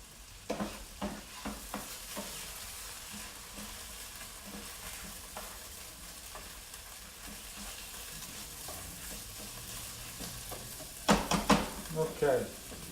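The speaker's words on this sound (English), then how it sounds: "Now we got the tomatoes all done. All right, let's go back and stir them some more." Tomatoes being stirred as they fry in a pan for empanadas, a steady sizzle with utensil scrapes and knocks, louder clattering stirs near the end.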